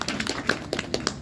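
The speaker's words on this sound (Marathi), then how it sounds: "किती लेकरासाठी टाळ्या वाजवा" A group of people clap their hands at a devotional gathering, quick close claps landing in an uneven rhythm over about a second, with no talking.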